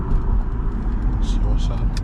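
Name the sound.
Lexus IS250 car driving with rubbing noise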